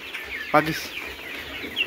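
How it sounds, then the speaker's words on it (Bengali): A layer chicken at a poultry farm lets out a single short cluck at close range against a faint, busy background. "আমাদের এখানে সকল প্রকার হাঁস ও মুরগির বাচ্চা পাবেন, যেরকম ফার্মি মুরগি,"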